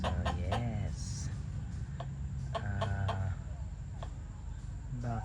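Backyard geese kept as guards give a few sharp honking calls and clucky squawks in quick bursts over a low background murmur, fairly close.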